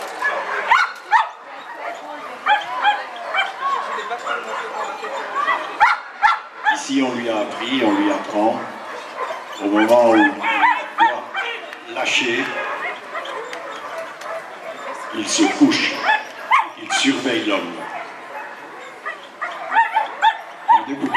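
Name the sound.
dog barking during bite work training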